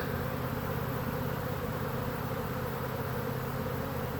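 A swarm of honey bees gathering into one cluster outdoors produces a steady, dense buzzing drone that holds evenly throughout, close and unbroken.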